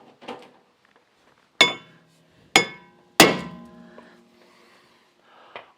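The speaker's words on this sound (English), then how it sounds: "You may have to take a steel hammer and give this some love taps to break it loose." Sharp metallic clanks from a steel hammer striking a stuck brake rotor on a 2011 Chevrolet Impala: three loud, close blows about a second apart, each ringing briefly, with softer taps before and after.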